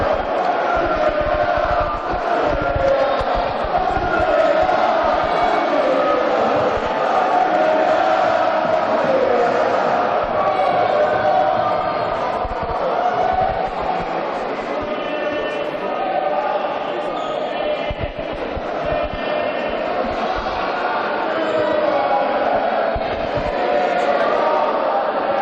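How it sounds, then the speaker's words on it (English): Spectators at a Keele versus Staffs varsity game keep up a loud, sustained crowd roar of cheering and shouting throughout, dense and unbroken with occasional swells. "the crowd really liked that, really enjoyed watching the games"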